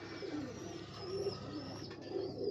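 Pigeons coo softly and repeatedly in a loft housing racing stock from tournament-winning parents, a low murmuring bubble that continues steadily over a faint background hum with no talking.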